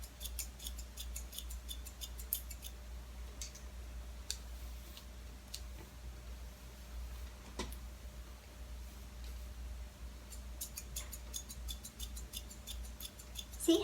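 Scissors snip through long hair during a home layered trim, a string of faint, quick clicking cuts scattered across a quiet room, with a steady low hum underneath and no talking.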